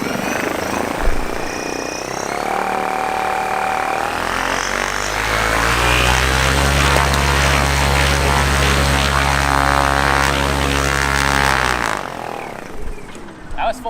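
A homemade electric ultralight aircraft motor spins its propeller up to full power, a loud steady whirring drone that builds over a few seconds, holds, then winds down near the end.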